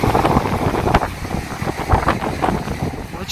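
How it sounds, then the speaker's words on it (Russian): Strong wind buffets the microphone with a constant low rumble and gusty roar, loud and close, on a beach at Lazarevskoye, Sochi, over a lightly choppy Black Sea. "И так ветер, ничего не слышно."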